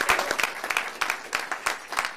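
Audience applause for two first-time improv performers at a live improv show, a moderate burst of hand claps with uneven pulses of clapping across the whole stretch.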